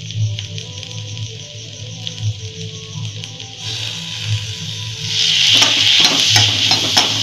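Food is stir-fried in a pan with soy sauce added, a steady sizzle under clinking utensil scrapes that grows louder and hissier toward the end, with no talking.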